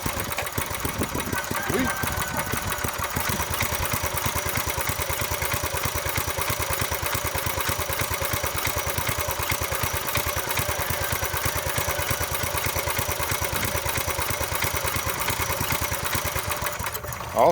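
An old garden tiller's small engine, revived after sitting for about 20 years, runs steadily after a restart with a loud, even, close putter, and a voice briefly speaks over it.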